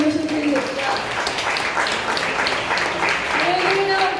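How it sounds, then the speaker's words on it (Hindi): A congregation at a Hindi Christian worship service claps loudly for God, giving sustained, dense applause throughout while a voice speaks over it at the start and end. "हम जोरदार ताली बजाएं हमारे परमेश्वर के लिए।"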